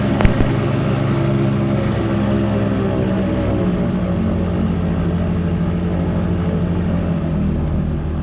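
A gyrocopter's engine idles and rumbles steadily while lined up on runway 31 at Ashcroft before takeoff, a continuous, close droning hum with no talk over it.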